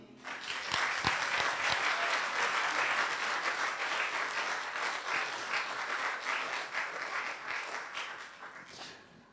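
Guests at a diploma ceremony in Luxembourg break into loud, sustained applause that swells quickly, holds dense and steady for several seconds, then tapers off near the end.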